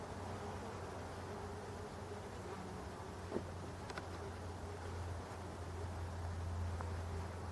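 Winter honeybees buzz around a forest hive in early November, a faint, steady outdoor drone of many insects with the odd bee passing close.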